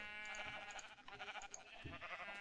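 Sheep bleating in the Forever Stranded video game, several overlapping wavering bleats running throughout, close and fairly loud with no talking.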